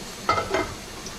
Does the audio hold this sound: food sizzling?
yes